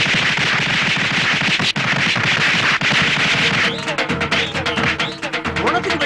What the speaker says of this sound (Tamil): பொணத்துக்கு வெடி வச்சிருக்காங்க. ஏன் பொணத்துக்கு வெடி வைக்கிறாங்க?